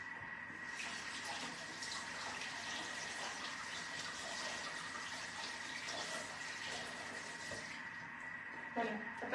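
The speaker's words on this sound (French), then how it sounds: "Je vais me rincer les mains" Tap water runs steadily as hands are rinsed at a kitchen sink during a fig, honey and feta tart cooking session, a continuous broadband rush that stops near the end.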